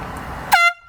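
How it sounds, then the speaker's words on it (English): One very loud, close air horn blast, short and sharp, cutting off abruptly and leaving a brief ringing tail. "I've never heard an air horn so fucking loud, dude."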